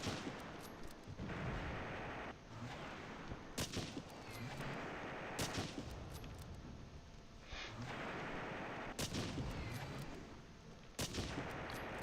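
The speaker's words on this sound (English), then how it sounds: "Let's engage it with the medium machine gun." Medium machine gun team firing in the World War II strategy game Close Combat against Soviet forces, with repeated bursts and booming impacts over constant rumbling battle ambience, no talk.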